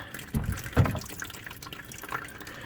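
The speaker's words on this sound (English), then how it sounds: "once that water drains out" Gurgling water running and dripping as an RV plumbing line drains during an accumulator tank install, a couple of louder sloshing pulses early, then quieter trickling.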